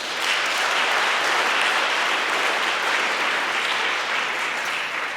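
Sustained applause from an audience at the European Charlemagne Youth Prize ceremony in Aachen, a thick, even roar of many clapping hands that holds at steady loudness for the whole stretch.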